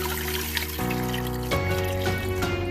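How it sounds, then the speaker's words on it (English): Water trickling steadily from a container into a pot of turkey for broth, a close, continuous pour that shifts pitch as the pot fills, with no talking. "So I'm just gonna put some water in the turkey."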